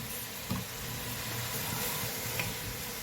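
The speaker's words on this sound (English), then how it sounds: "Add rice and fry for 2 minutes." Rice and garlic frying in a pan, a steady broadband sizzle throughout with a couple of soft stirring knocks, close and without voices.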